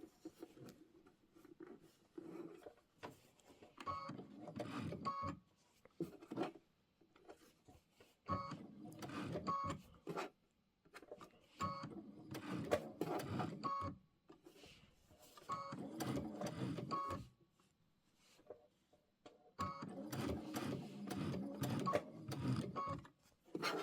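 A sewing machine stitches the border of a Star Spangled Beauty quilt in several bursts of rapid, rhythmic mechanical whirring. Short pauses separate the runs, and the sound is close and moderately loud.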